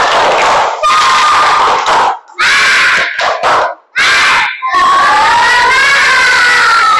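A classroom of students stands and performs a spirit-clapping cheer: loud group shouts and chanting in sharp bursts separated by short silences, ending in a longer, rising shouted stretch.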